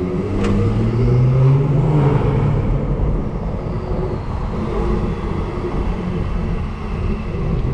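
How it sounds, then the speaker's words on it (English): A tuned BMW 440i with 75k miles, set in comfort mode, revs with a steady loud engine roar and a brief rising swell early on, with no speech over it. "I'm gonna rev it right now while it's in comfort"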